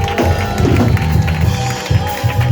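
A church congregation applauding and cheering during a service, a dense crowd of clapping and shouting voices filling the room, loud and continuous.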